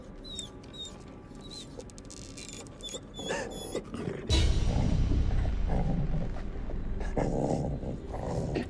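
A creature in the horror game The Devil in Me whines in thin high cries, then gives a loud, sustained low growl that fills the rest of the clip.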